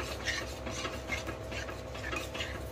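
Curry being stirred and mixed in a cooking pot with beaten curd, a steady scraping, rubbing rhythm of a spoon against the metal, close and continuous with no talk.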